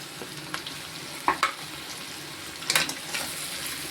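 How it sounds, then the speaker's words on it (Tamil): Chopped capsicum tossed into cabbage frying in a pan, with a steady sizzle and a few sharp clatters of a spoon stirring, heard close and without talk. "இப்போ வந்து நம்ம குடமிளகா போடுவோம்."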